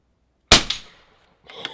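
A single sharp, loud gunshot fired at a target during night-vision shooting, with a short decaying echo, followed after a pause by fainter clattering noise.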